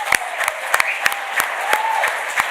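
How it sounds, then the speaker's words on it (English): Applause from an audience at a forces families awards ceremony, with steady clapping and sharp individual claps close by, continuing without pause and with no talking over it. "Round of applause for Centrica."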